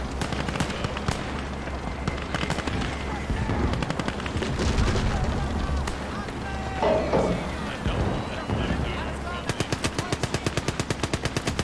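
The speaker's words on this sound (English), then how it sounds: "Cannon fire incoming!" Rapid bursts of cannon fire and heavy booms in Gates of Hell pound almost continuously, layered over a dense battle rumble with a voice faintly underneath.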